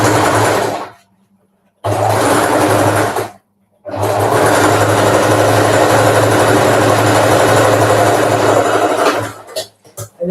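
A sewing machine stitches in loud, steady whirring bursts close by: a short run, a pause, another short run, then one long continuous run that tails off into a few stuttering stops.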